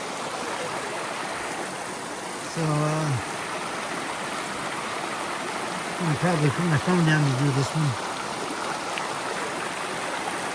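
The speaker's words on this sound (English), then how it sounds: "All right, I already got a water crossing." Mountain stream at a hiking water crossing on Mt. Moosilauke, a steady broadband rush of flowing water running throughout, close and fairly loud, with someone talking briefly over it.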